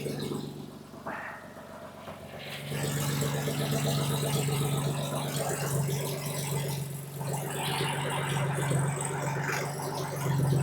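A 1946 Chevy truck engine idles with a small exhaust leak, giving a steady low drone with light rattling ticks and some background noise throughout.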